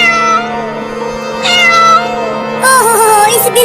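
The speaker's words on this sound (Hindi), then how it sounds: "वहाँ पर एक बड़ी बिल्ली चिल्ला रही है" A large cat meows loudly and repeatedly, calling for her kitten: three long drawn-out wailing cries, close and clear, with short pauses between them.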